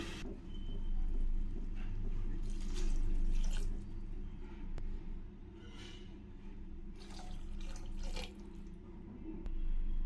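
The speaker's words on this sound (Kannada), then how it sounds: "ಈಗ ಇದಕ್ಕೆ ನೀರನ್ನ ಸೇರಿಸ್ತಾ ಇದ್ದೀನಿ" Water from a glass is poured onto rice in a cooking pot. The pour makes a steady, continuous gurgling rush throughout, close and fairly loud, with no voices.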